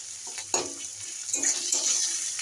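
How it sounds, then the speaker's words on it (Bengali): Potato and spices fry in a pan with a steady soft sizzle, broken by a few sharp scrapes and clinks of a spoon stirring against the metal, close and moderately quiet. "ভালো করে ভেজে নেবো।"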